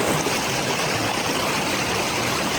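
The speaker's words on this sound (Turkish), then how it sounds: "Tam derenin yanında." A stream flows steadily nearby beside a rock outcrop in Ukraine, a constant rushing babble of water with no voices.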